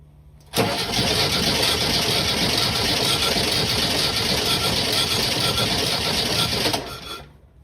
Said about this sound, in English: First, let's check compression on cylinder 3.